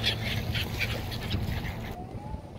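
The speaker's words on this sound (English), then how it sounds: "we're here feeding ducks." Ducks quack in a loose flurry of calls at close range while being fed outdoors, over background noise; then the quacking stops and only quiet ambience remains.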